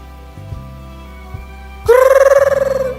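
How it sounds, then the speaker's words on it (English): An alarm bursts in with a loud, rapidly pulsing electronic ring over a low steady background hum, repeating for about a second. "Like my alarm is ringing now."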